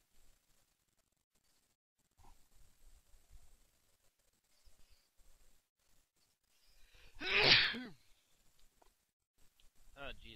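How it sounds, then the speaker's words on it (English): A single sneeze bursts out loudly after quiet moments of breathing and faint rustles, with a short pause and a few soft sounds after it. "And I feel a sneeze coming on."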